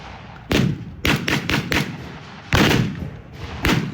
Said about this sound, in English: The German half-track machine gunner is firing from his position.